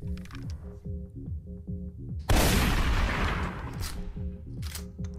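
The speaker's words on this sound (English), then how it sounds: "I can either shoot the dealer or I can shoot myself." A shotgun blast in Buckshot Roulette, fired at the dealer: one loud, booming shot cuts in suddenly and decays over a couple of seconds, with rhythmic game music pulsing before and after.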